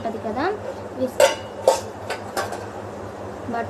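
Butter being whisked by hand with a wire whisk in a bowl, giving a few scattered metallic scrapes and clinks against a steady low background hum.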